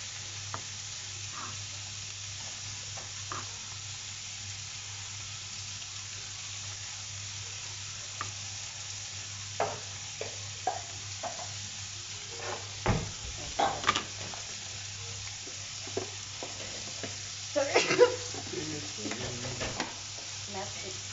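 Poultry lardons and onions frying in a pan: steady soft sizzle throughout, with occasional stirring scrapes and clinks growing busier toward the end, close and fairly quiet.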